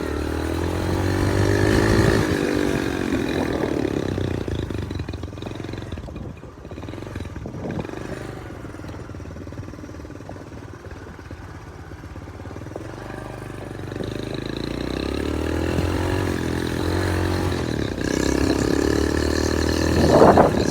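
A Honda Trail 90 with an ATC 125M engine, ridden on the move, drones loudly and close. The engine note rises and falls as it revs and shifts, with no talk over it.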